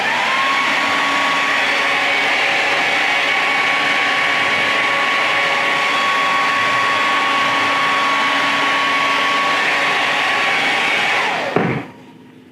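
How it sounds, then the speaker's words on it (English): A steady, loud motorized whoosh of a hair dryer drying degreaser off a painted figure runs continuously for about eleven seconds with a constant whine, then cuts off abruptly. "Let me hit this with a hair dryer since I just went hit with a degreaser."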